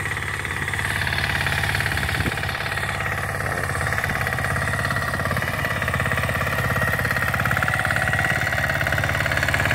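A Yanmar L50 two-wheel tractor engine chugs steadily while tilling a ginger field, a close, rapid knocking single-cylinder diesel beat that stays loud and even throughout, with no talk.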